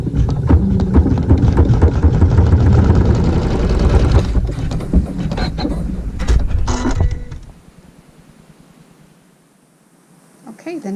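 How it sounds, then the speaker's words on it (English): A sewing machine stitches a fabric seam while piecing a checkerboard triangle quilt block, its mechanical whirring loud and close for about seven seconds before stopping, leaving quiet room tone and faint movement. "I'm going to sew a seam."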